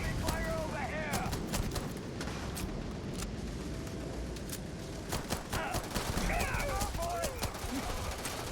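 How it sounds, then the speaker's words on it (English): Enemy gunfire crackles in the sci-fi video game Starfield, with scattered shots and bursts over a constant battle din while a player talks over it. "Enemy fire over here!"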